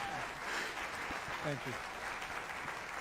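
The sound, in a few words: audience applause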